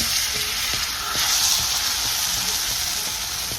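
Hot water cornbread batter drops into hot oil and fries with a loud, continuous sizzle and crackle, close up, with small pops scattered through the steady hiss.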